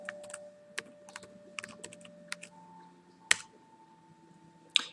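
A computer keyboard clatters as a username and password are typed in to log into Boxtop Software client, with irregular bursts of close key clicks ending in two sharper isolated taps.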